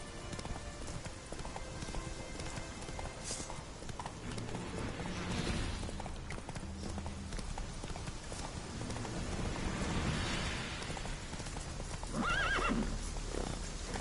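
A horse galloping and whinnying in the video game The Witcher 3, with steady clip-clop hoofbeats throughout and a neigh rising near the end, heard alone and moderately loud.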